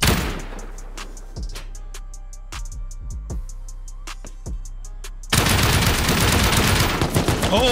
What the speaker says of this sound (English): Should I try to shoot him?